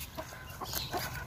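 Several backyard hens make soft, brief clucks, a few quiet calls close by over a low background hum.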